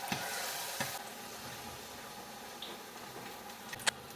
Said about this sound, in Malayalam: പിന്നെന്ന് ഞാൻ നമ്മളെ പുതിയ ചട്ടിയിലാണ് കേട്ടോ ഫ്രൈ ചെയ്തെടുക്കുന്നത്